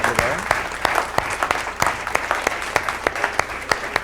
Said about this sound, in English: We really want to give these guys a big round of applause again